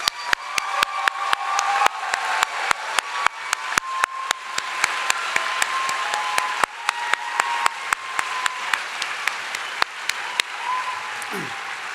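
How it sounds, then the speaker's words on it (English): Applause from a ceremony audience at a medical school white coat ceremony, sustained clapping from a large crowd, with sharp individual claps standing out close by over the steady wash. "And now a round of applause for Hunter College."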